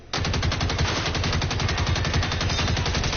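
Sustained rapid automatic fire from a golden AK-47 in a video game, loud and close, with an even machine-gun rhythm running unbroken for about three seconds and no talking.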